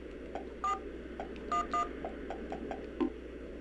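Cell phone keypad tones in the video game Silent Hill Shattered Memories as a call is dialed: a series of short electronic beeps in an uneven rhythm, some doubled, over a steady background hum, no talking.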